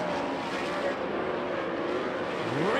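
Sprint race cars racing on the dirt track at Arizona Speedway, a continuous dense engine roar with a pitch rising as a car accelerates, loud and steady throughout.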